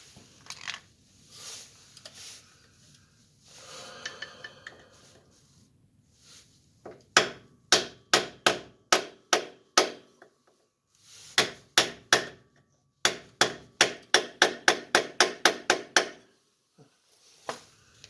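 Sharp, regular hammer strikes on a Dana 60 axle during a gear oil change ring out in quick runs of blows, close and loud, after some quieter rustling and handling noises at the start.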